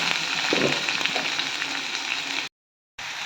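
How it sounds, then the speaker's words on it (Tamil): Steady sizzling of onions frying in oil, close and continuous, with a short silent gap near the end before the sizzle resumes. "அடுப்பை சிம்மில் வச்சு நல்லா வதக்கிக்கலாம்."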